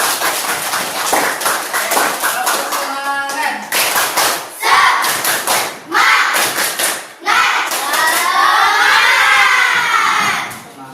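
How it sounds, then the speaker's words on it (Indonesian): Children in a classroom clap their hands in loud bursts, with shouting and cheering mixed in between the rounds of clapping. "Sekali lagi tepuk tangan untuk kita semua."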